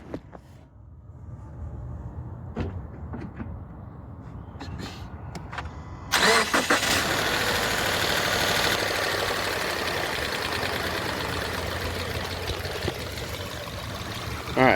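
A 2018 Subaru Forester, newer-style engine, in a quiet engine bay: small clicks and faint noises, then a warm start, with the engine catching sharply and settling into a steady, fairly loud idle.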